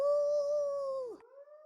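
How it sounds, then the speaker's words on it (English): An animal howls in the Tsukihime Remake visual novel game: a single sustained high-pitched tonal howl that holds steady, then bends sharply downward and trails off, with a fainter rising call following, alone and close. "The howl of an animal. Too high to be a dog."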